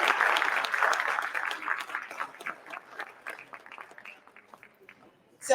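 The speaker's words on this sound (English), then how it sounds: "Can we give another round of applause to Madam Speaker, Adrienne Adams." Applause from an inauguration ceremony audience for the council speaker, loud at first and then thinning into scattered claps that fade to near silence before a brief burst at the end.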